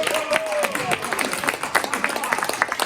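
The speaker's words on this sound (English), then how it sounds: "Give yourselves a big round of applause" A workshop audience gives itself a big round of applause, many hands clapping in a lively, uneven rhythm with distinct sharp claps standing out, while a voice talks over the crowd noise.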